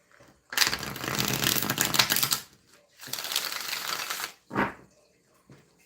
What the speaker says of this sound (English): 2 more shuffles and we'll get into this.